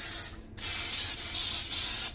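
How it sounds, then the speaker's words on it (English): Non-stick cooking spray hisses from an aerosol can onto a pan in two loud, close bursts, separated by a brief pause and with no talking. "I'm just gonna spray some non-stick spray."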